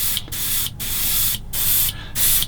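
An airbrush spraying paint on a 1/35 scale Bronco model kit, three hissing bursts of roughly half a second each separated by short pauses, close and loud.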